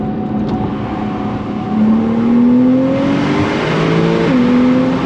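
A 2017 Porsche 911 with stock exhaust revs up and accelerates, its exhaust note rising in pitch through a couple of gear changes, loud and close, with no talking.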